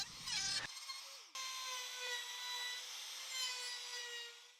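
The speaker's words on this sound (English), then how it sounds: "With the cut finished, I can now remove the router." A router cuts through wood scraps with a brief rough grind, then a sustained high whine as the bit spins on, loud and close throughout.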